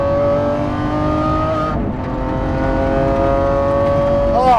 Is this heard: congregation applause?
no